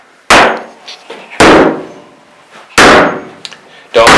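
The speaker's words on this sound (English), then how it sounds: "Bang that really hard. Bang it really hard." Loud, heavy bangs on a leaking bathroom wall during demolition, four sharp impacts spaced about a second apart, each with a ringing decay and faint clatter between.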